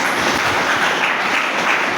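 Steady, dense clapping fills the hall at a church gathering, a continuous wash of hands from a large audience sustained evenly, close and loud with no voice on top.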